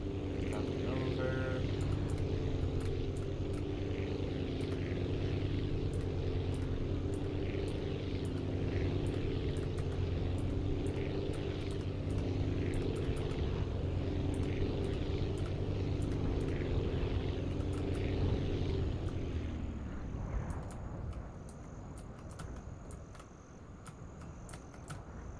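A propeller plane in the Aviassembly video game drones steadily and close for most of the time, then its engine note drops away as it touches down and slows. A voice talks briefly over it.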